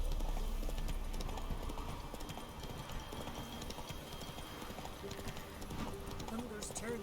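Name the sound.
horse hooves trotting in video game The Witcher 3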